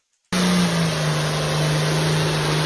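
A tractor engine starts abruptly after a brief silence and holds a loud, steady revving drone with a strong low hum, close and alone with no talk, from a fail compilation.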